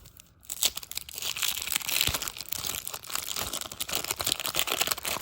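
Foil wrappers on 1988 Topps baseball card packs are torn and crinkled open up close, a dense, continuous rustling and ripping with sharp crackles throughout and no talking.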